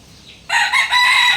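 A pumpkin gamefowl rooster crows once at a chicken farm, loud and close, with a short rising start that holds into a bright, sustained call.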